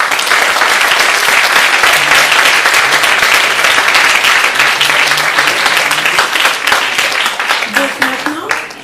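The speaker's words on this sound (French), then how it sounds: "donc on peut encore les applaudir" Sustained audience applause at a youth summit panel, loud and dense with many hands clapping for the full length, tapering slightly near the end with faint voices emerging.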